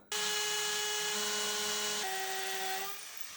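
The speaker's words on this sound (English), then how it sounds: "Okay, it's time to drill." A hammer drill starts abruptly into a steady, close, high whine, shifts pitch about two-thirds through, then drops in level as it winds down.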